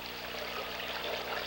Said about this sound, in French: Il a mis son ruisseau dans la boîte à son et me l'a envoyé.